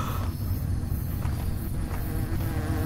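Bees buzzing in the game Hungry Lamu, a steady droning hum with faint insect whine layered over a low constant rumble, unbroken and fairly quiet throughout.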